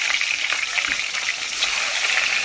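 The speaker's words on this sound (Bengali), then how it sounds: "ডিমগুলোকে লাল লাল করে ভেজে তুলে নেবে" Eggs frying in hot oil for egg curry, a dense continuous sizzle with crackling spits throughout, close and loud.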